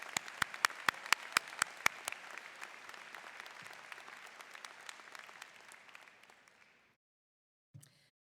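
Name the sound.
audience applause for the commencement orchestra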